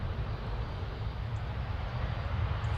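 Steady, distant roar of an EasyJet Airbus A320neo bound for Istanbul at Manchester Airport, a broad even rumble holding at moderate level throughout with no talking.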